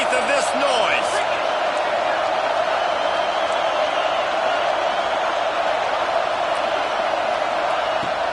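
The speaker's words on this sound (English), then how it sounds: "how nice is it to have the home crowd going absolutely bananas?" Home crowd at an Alabama vs Georgia college football game roaring without pause, a dense, loud, sustained wall of cheering in a stadium with a few sharper shouts and whoops rising from it.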